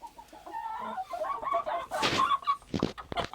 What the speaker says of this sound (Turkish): Şu horozlarımız Ali ile Haydar.